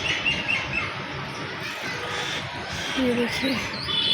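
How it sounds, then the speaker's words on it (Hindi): Birds chirp outdoors under dark clouds before rain, with children playing nearby; thin high calls sit faintly beneath someone talking throughout. "देखिए चिड़िया भी बोल रही है।"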